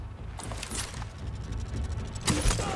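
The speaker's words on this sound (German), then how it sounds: "Warte, nachladen." A weapon is reloaded in the video game The Division, giving several quick mechanical clicks and clacks, followed by a sharper metallic snap near the end.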